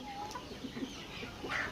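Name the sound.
Black Australorp chickens clucking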